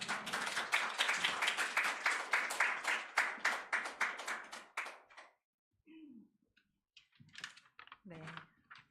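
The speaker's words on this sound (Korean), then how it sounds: "나오실 때 그렇게 되기를 같이 응원의 박수." A church congregation applauds during a Korean worship service. Dense, close clapping runs for about five seconds, then dies away into silence before a voice speaks briefly.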